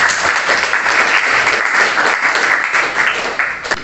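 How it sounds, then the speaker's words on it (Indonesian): Loud, sustained applause from a group clapping together in a university class session, steady and dense for several seconds before tapering slightly at the end. "Tepuk tangan untuk kalian semua."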